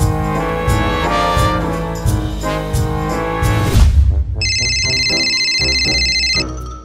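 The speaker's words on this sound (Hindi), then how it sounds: "हाँ फोन आया।" A bright electronic phone ringtone chimes in over a background music track for about two seconds, loud and close, in a Hindi comedy skit at home.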